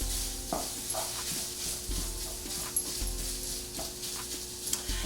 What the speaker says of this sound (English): while our sausage is browning up